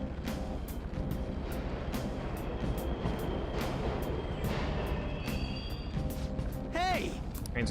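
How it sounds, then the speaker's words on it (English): Low rumbling subway trains run steadily in the Persona 5 video game, with a brief high metallic screech near the end and game sounds and voices over the top. "Trains are totally running."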